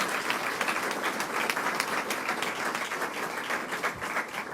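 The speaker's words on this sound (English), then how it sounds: "Let's give her another round of applause," A sustained round of audience applause for NYSET president Melinda Person at a New York statewide smartphone-restriction event, dense steady clapping filling the space at close range, no talk over it.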